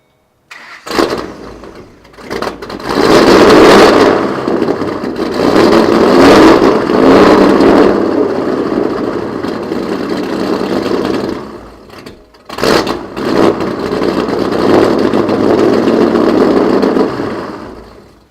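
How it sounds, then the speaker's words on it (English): A Ford S197 Mustang GT V8 with new long-tube headers fires up for the first time, cranking and catching into a loud, rough idle that swells and dips, cuts out briefly, then restarts and settles into a steady, close rumble. "this is going to be the first start of my pace setter long tube headers."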